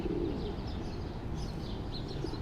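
A male pigeon coos during a mating dance on a Manhattan street, a soft, steady low murmur near the start with a fainter coo later, set against constant city background noise.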